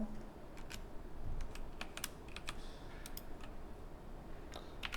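Computer keyboard keys tapped in scattered bursts and single clicks during 3D modelling work in Blender, fairly close and crisp over a low background hum, with no talking.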